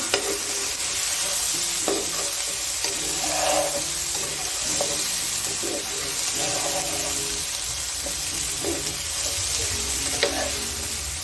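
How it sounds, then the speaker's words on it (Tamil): Chicken with raw mango and green chilli is stirred in a hot pan, a steady sizzle under repeated scraping strokes of a spoon at close range. "லைட்டாக இதை பிரட்டி விடுங்க."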